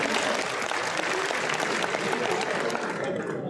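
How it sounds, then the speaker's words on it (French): Applause from a seated crowd at a seniors' lunch, a continuous, even patter of many hands clapping in a large room, moderately loud and fading slightly at the end. "Donc vous pouvez tous l'applaudir."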